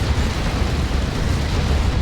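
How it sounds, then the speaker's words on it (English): A Demolisher Cannon explosion in the real-time strategy game Warhammer 40,000: Dawn of War 2 gives a loud, dense, sustained roaring blast that fills the whole moment without letting up. No voices are heard. "I think that was a Demolisher Cannon that did some friendly fire there."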